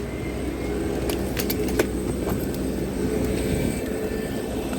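A Ryanair jet airliner taxis slowly to the stand, its engines humming steadily at close range with a few faint clicks and rattles.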